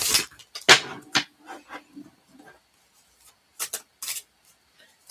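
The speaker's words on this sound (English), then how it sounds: "just watch me shuffle cards" Playing cards being shuffled by hand, heard as a few short riffling bursts and soft rubbing sounds spread through the clip, fairly close and moderately quiet, with pauses between bursts.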